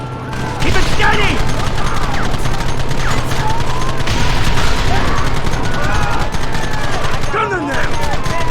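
Sustained gunfire in Red Dead Redemption, dense rapid shots and volleys forming a continuous loud barrage over a steady low hum, with a shouted voice line partly mixed in.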